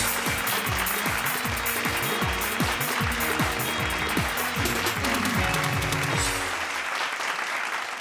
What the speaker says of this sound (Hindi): जोरदार तालियों के साथ स्वागत कीजिए क्रैक बेतियावी जी का